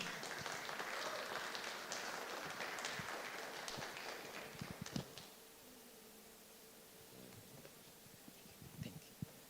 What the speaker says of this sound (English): Please, another resounding applause for that.